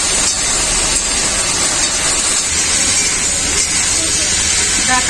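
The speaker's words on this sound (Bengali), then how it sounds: "হলুদ গুঁড়ো আর আলুগুলোকে হালকা করে ভেজে নেবো" Potatoes with turmeric powder fry in a pan with a loud, continuous hiss and sizzle that holds steady throughout.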